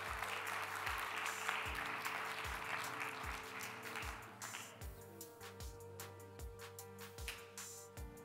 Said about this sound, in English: Give them a very, very big round of applause.